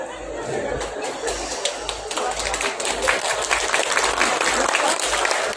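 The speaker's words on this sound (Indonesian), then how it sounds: "Kenapa tepuk tangan?" A crowd at a pesantren gathering in Purwosari, Lampung, claps loudly and continuously through a dignitary's visit, with murmured chatter and voices mixed into the steady applause.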